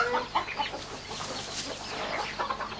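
A hen clucks in a run of short, uneven clucks over a busy, noisy background.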